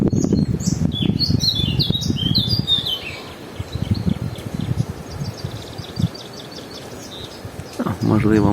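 A songbird sings bright, rapid chirping phrases close by, repeating in bursts, with rustling and low background noise underneath.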